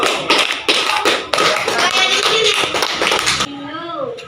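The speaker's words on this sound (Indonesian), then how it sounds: "Ya, tepuk tangan dulu." Classroom students applaud together after a pupil's presentation, a dense burst of clapping that runs for about three seconds before stopping, with a teacher's voice following.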